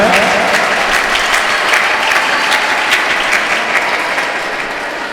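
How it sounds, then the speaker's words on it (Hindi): Loud, sustained applause from the audience at a school prize-giving during an Independence Day cultural program, many hands clapping in a thick, even roar that fades slightly toward the end. "तालियां बजाइए, कल होकर के आपको भी ये पुरस्कार मिलना है।"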